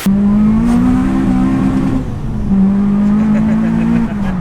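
A K24-swapped Honda Civic FD2 Type R engine revs hard from inside the car, a loud steady drone rising and falling twice as the throttle is blipped, with a slight dip between pulls.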